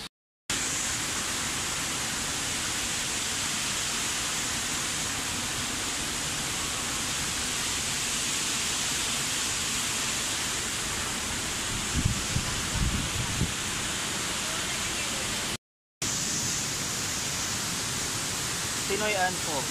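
Tinuy-An Falls in Bislig City, Surigao del Sur roars as a constant, even wash of falling water, with a brief low thump partway through and a short cut in the sound near the end.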